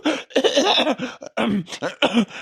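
Repeated harsh coughing comes in rough bursts close to the microphone, with brief gaps between the spasms.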